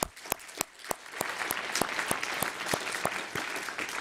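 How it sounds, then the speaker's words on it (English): Conference attendees at a sovereign debt management forum break into applause, beginning with a few distinct claps in a slow rhythmic pattern that quickly builds into dense, sustained clapping from the room. "I urge you to give them a big round of applause"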